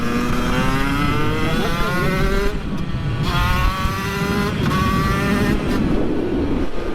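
A revving Yamaha YZ125 dirt bike engine rises in pitch, drops briefly between gear shifts, and climbs again several times, loud and close.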